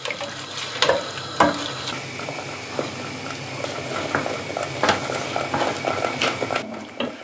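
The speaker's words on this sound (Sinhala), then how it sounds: "මම වතුර එකතු කරා ලීටරයකට මිලිලීටර් 200ක්." Water poured into a pot of biryani rice, an uneven splashing stream with a few sharper plops, fairly close and alone with no talk.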